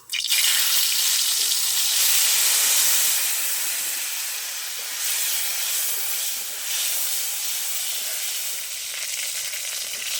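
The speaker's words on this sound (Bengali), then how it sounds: "হিংটা আমার ভালো করে ভাজা হয়ে গেছে" Soaked asafoetida hitting hot white oil in a kadai with cumin seeds: a loud, close sizzle and hiss bursts in at once and runs on steadily, easing slightly, with no talking.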